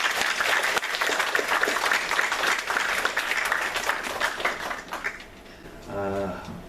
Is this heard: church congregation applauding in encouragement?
yes